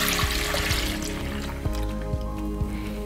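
A liter of full cream milk pours steadily into a container for yogurt-making, a continuous liquid trickle with small splashing drips, close and moderately loud with no talking.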